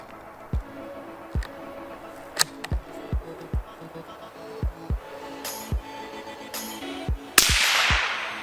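Sharp .22 LR CCI Stinger gunshots crack out one after another, about a dozen at irregular intervals, each loud and short with a quick decay, the last followed by a brief burst of noisy clatter.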